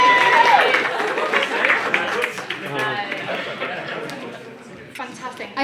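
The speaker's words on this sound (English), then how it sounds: "A round of applause." Audience applause at a Science and Beers talk in Odense, a dense burst of clapping mixed with crowd chatter and laughter that gradually thins out.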